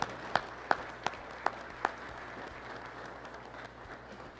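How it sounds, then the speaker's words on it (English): A few distinct claps ring out up close over faint scattered applause from an agricultural summit audience thanking sponsors, then the clapping thins away into the room's quiet background. "Please help me give them a round of applause"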